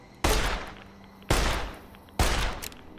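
Three loud, spaced gunshots in Fallout New Vegas, each a sharp crack with a decaying echo, roughly one second apart, with no talking.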